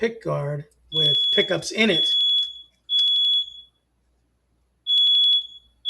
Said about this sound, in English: And there goes my fire alarm.